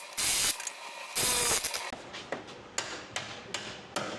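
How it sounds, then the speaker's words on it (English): A wrench works a 21 mm bolt on a Range Rover rear spindle, with two loud bursts of metallic scraping followed by a string of sharp, close ratchet clicks at a steady pace. "Just putting a wrench on the backside there."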